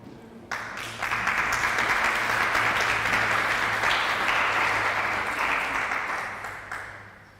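Sustained audience applause at a leadership celebration event, a dense wash of clapping that rises abruptly, holds loud and steady for several seconds, then tapers off toward the end.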